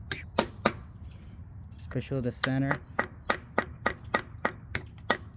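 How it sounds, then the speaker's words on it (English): A hammer strikes a Walker mower's wheel hub with slow, sharp metallic hits, about a dozen in a regular rhythm, close and loud, while someone talks briefly in the middle. "You're gonna use a hammer and you're gonna hit it slowly"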